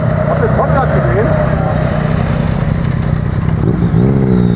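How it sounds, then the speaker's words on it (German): Motorcycle engine running loud and close at an outdoor event, a continuous rough drone with a rising rev near the end, with voices talking over it. "Habt ihr das Motorrad gesehen?"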